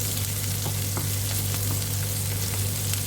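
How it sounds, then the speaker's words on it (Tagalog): Onion sautés in a hot pan with a steady, close sizzle and faint stirring scrapes, continuous with no talk. "palambutin lang natin kunti ang onion"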